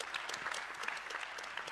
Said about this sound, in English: I would propose we all offer the panelists a round of applause, a hearty round of applause